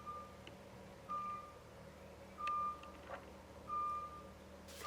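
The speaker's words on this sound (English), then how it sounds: "Please can the beeping outside stop? Is someone reversing?" Repeated high-pitched reversing beeps from a forklift sound from outside at a steady pace, moderately distant, over a low hum of machinery.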